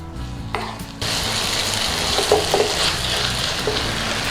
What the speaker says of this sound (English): all we do then is let it stir fry a little minute to start releasing the oils and the fats